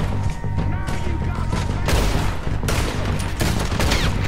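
Dense, loud bursts of gunfire crackle in rapid succession during a snowy Red Dead Redemption II shootout, with overlapping shots and booming reports filling the whole stretch.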